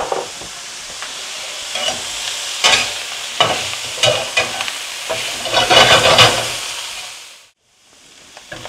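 Mushrooms cooking in a pan for a Salisbury steak sauce, sizzling and frying steadily with bursts of stirring scrapes, loud and close, then dropping away to quieter hiss near the end.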